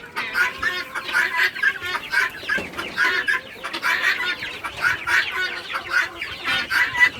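Flock of guinea fowl on a farm calling in a loud, continuous chorus of harsh, rhythmic clucking cries, with overlapping birds throughout and no talk.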